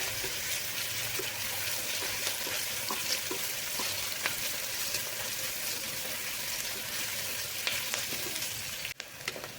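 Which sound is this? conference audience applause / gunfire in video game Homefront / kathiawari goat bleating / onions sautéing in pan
onions sautéing in pan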